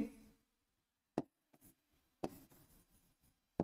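Marker or chalk writing on a classroom board during a Hindi-language English grammar lesson, heard as a few sparse, faint taps and scratchy strokes separated by quiet pauses.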